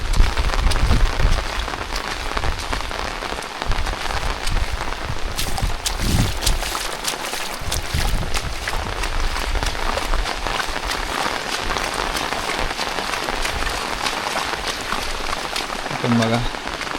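Heavy, continuous rain pours down over a village after two straight days of downpour, a dense steady hiss close by with voices faintly under it.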